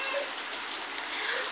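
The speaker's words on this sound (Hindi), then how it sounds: "आप देख सकते हैं कितनी बारिश जो है अभी पड़ रही" Heavy rain falls steadily outdoors on a stormy March day, a dense, continuous hiss of downpour close by, constant in level and heard alone without voices.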